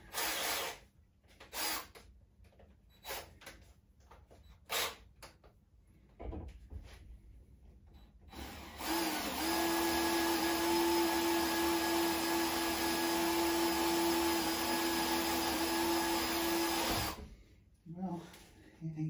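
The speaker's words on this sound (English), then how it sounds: "What it's really doing is drilling into there." A power drill with a screw extractor bores into a stuck screw, running as a steady, loud whining grind for about eight seconds after a stretch of scattered clicks, knocks and talk.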